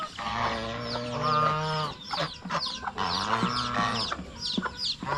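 Chickens clucking and squawking on a farm, several birds calling in overlapping bursts with a steady busy rhythm, fairly close and loud throughout.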